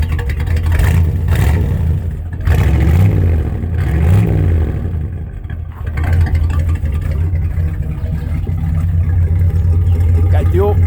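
A 1976 Ford F150 pickup's engine revs loudly up close through dual exhaust, with several throaty surges that rise and fall over a deep rumbling idle while someone talks.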